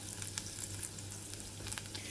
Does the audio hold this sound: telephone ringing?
no